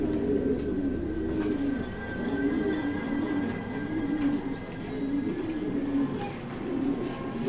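A loft of racing pigeons, down-shape birds among them, keeps up a continuous rolling coo in overlapping waves, near and steady, with a faint high tone in the background.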